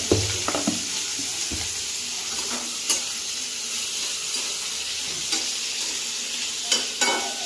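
Sliced onions sauté in hot oil with a pinch of salt for a tamarind-free fish kulambu, giving a steady close sizzle broken by occasional clinks and scrapes of stirring, with no talk.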